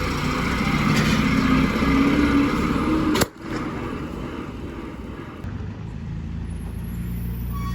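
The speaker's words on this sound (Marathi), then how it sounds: "ही गाडी चालली जतला ही बघा ही आहे आयशरची नवीन आपली लाल परी" A new red Eicher state transport bus runs at a bus stand in Baramati, its engine making a steady, loud rumbling drone. A sharp burst cuts in midway, then the engine rumble carries on slightly quieter.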